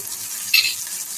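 Curry frying in oil in a frying pan for a Jaffna-style brinjal and chickpea dish, a steady close sizzle with a brief louder hiss of stirring midway, no voices.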